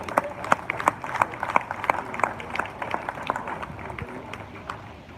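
An audience claps in scattered, uneven bursts at a business talk, moderately loud sharp hand claps over a murmuring room with no one speaking.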